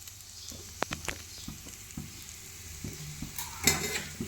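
Masala with egg fries in a pan for egg fried rice, a steady close sizzle under scattered sharp scrapes and stirring knocks, with a brief louder burst of sizzle near the end.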